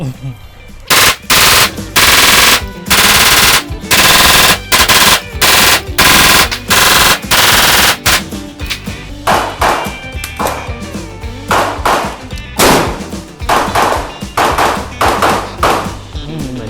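Rapid bursts of gunfire, fast strings of loud shots from a Saricam semi-automatic shotgun with brief pauses between volleys, close by and very loud.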